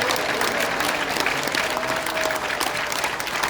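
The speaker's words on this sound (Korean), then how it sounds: "멋진 말씀해주신 우리 정강원 이사장님께 다시 한번 뜨거운 박수를 보내주시기 바랍니다." Warm applause rises from an audience at a community launch event for a chairman, thick continuous clapping across the hall with no speech over it.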